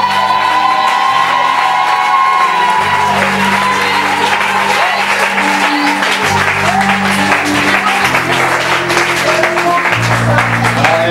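A church congregation in Yopougon, Abidjan, stands and cheers for Jesus, with loud sustained applause, whoops and shouting over steady music, continuous and close throughout.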